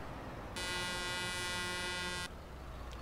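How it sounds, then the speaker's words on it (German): A single sustained truck horn blast in Euro Truck Simulator 2 from a MAN TGX Euro 6, loud and steady for about two seconds over a low engine rumble, with no speech. "Standard-Hupe"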